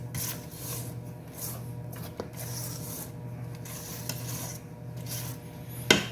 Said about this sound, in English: While we're scraping down, we're doing our final mix by hand.